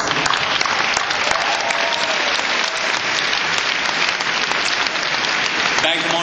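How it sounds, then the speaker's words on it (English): Audience at a fashion charity gala applauds in a dense, steady wash of clapping that holds at full strength throughout, with faint voices mixed in. "a round of applause, please."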